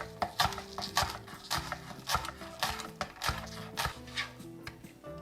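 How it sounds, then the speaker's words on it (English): A knife chops fresh chives on a cutting board in quick, steady, crisp strokes, with soft background music running underneath. "And I'll give these a nice chop."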